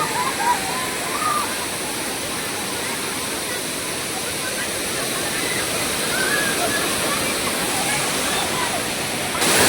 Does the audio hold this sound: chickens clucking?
no